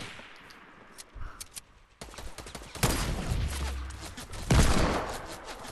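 Video game shooter gunfire, a quieter stretch of scattered shots giving way to loud, close bursts of rapid fire with a heavy blast toward the end.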